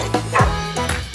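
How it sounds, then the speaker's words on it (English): A cartoon dog's short bark in a children's Old McDonald-style farm song, a couple of quick yips set against bouncy music with a singing voice. "Dog!"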